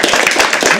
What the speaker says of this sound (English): Can we start clapping?